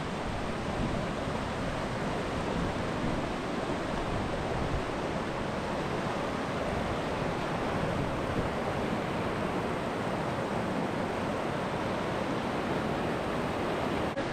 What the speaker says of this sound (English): We're coming up on the Bear Creek here. This is the tough crossing.